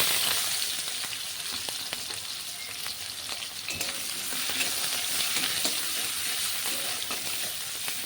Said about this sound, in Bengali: পেঁয়াজটাকে আমি অল্প ভেজে নেব।